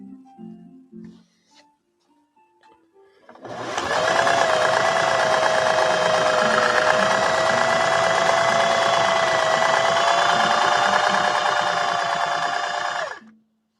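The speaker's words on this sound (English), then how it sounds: "Emma, that's a classy stitch." A 1961 Singer 401A sewing machine stitching, a steady, close, loud motor whir with rapid needle clatter lasting about nine seconds, preceded by a few soft handling sounds.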